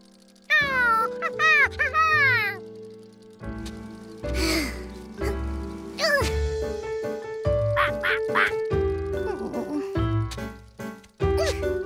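Cartoon ducks quack repeatedly in a fairground shooting game, with bright nasal calls in quick clusters, loud and close. They are mixed with meow-like and other playful cartoon sound effects.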